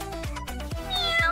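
A kitten meows several times in quick succession, close and clear, with short bright mews rising and falling and no talk over them.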